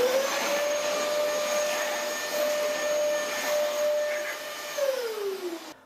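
A Dyson DC33 vacuum cleaner runs steadily on a hard floor, a loud close whine with a constant motor tone that drops in pitch near the end as it winds down.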